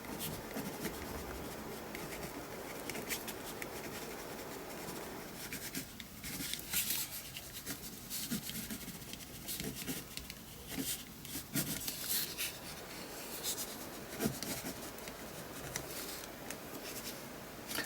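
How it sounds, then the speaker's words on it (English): A pen writes by hand inside a paper craft piece, a steady close scratching and scribbling that runs continuously with brief pauses between strokes. "I'm going to turn it round and I'm just going to write inside that a little bit illegibly"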